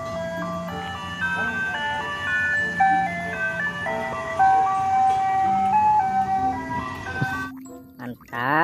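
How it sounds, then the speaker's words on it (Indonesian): A toy ice cream truck plays its melodic electronic jingle steadily and fairly loud for about seven seconds, then cuts off abruptly and is followed by brief scraping handling noise. "Yang ini mobil es krim."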